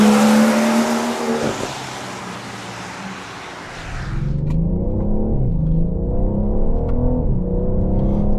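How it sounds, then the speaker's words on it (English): A BMW M760i with its V12 engine roars loudly under hard acceleration, with a rising, then falling rev note and a gear change, followed by a deep, steady engine hum. "it has a freaking V12"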